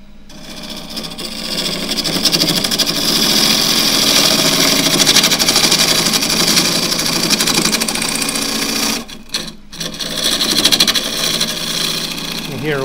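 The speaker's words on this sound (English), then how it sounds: "You hear a whipping sound in there, which is still part of the torn grain." A wood lathe spins a tough piece of birdseye Huon pine with torn grain, giving a continuous bright whirring hum and a faint rhythmic whipping, briefly cut off near the end before resuming close by.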